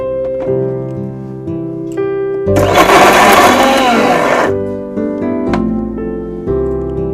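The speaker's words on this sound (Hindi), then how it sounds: "दोबारा से इसका कीमा करना है हमें, तो ब्लेंड कर लेंगे" An electric blender mincing meat with a little rice flour runs loudly for about two seconds in a dense whirring burst, with quieter kitchen sounds before and after.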